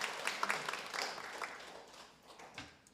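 A church congregation claps together during a Sunday service in a brief burst of applause that fades out after a couple of seconds.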